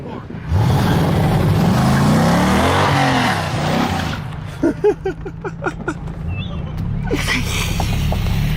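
A Chevrolet Cavalier sleeper project car accelerates hard, its engine roaring loudly and climbing in pitch close by, then cutting off into a quieter idle with a few sharp pops and a later brief swell of revving.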